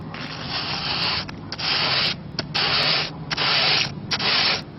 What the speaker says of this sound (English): now I'm going to use a block sander with 120 to knock down that edge,